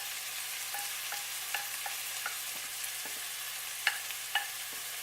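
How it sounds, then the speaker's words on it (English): Codfish cooking in olive oil in a pan, a quiet steady sizzle with scattered light scrapes and taps of a utensil, two sharper clicks near the end. "the codfish and just let that cook for about 2 minutes."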